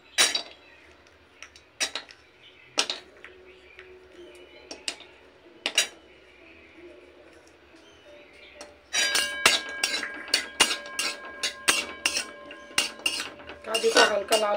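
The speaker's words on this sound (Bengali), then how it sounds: "প্রথমেই কাজু আর কিশমিশটা একটু নেড়ে নেব" A spatula clinks and scrapes against a metal kadai while cashews and raisins are stirred in a little ghee: sparse, separate knocks at first, then a busier run of sharp metallic taps close by.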